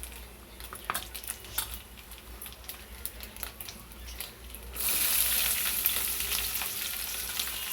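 Onions hit hot oil with fried dried prawns, starting as a crackly sizzle with spoon clinks before swelling into a loud, steady, close frying hiss.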